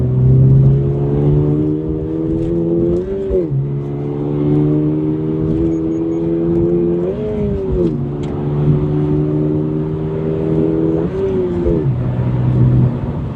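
Manual-transmission 2025 Subaru BRZ tS accelerating hard in third gear on a road, engine note rising steadily in three long pulls with brief dips at each shift, loud and close from inside the cabin with no talk.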